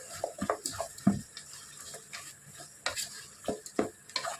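Mutton curry with onions being stirred in a pot, a spoon scraping and clattering in irregular bursts close up over a faint simmering sizzle, with no talking.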